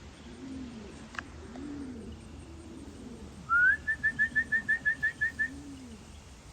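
Soft low coos from a feral pigeon repeat at an outdoor pigeon loft, then a sharp high whistled bird call cuts in with a rapid run of a dozen pulsed notes near the end.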